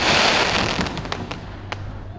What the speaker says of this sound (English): them are the mortars right there